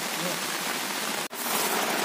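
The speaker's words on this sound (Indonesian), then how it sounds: "Di luar hujan deras ya." Heavy rain pours outside at a mountain camp on Gunung Gede, a dense, steady wash of noise that is loud and close, with one brief dropout midway and no talk.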